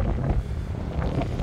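Steady wind blustering across the microphone beside a lagoon, a continuous low rumbling roar with no voices, holding the same level throughout.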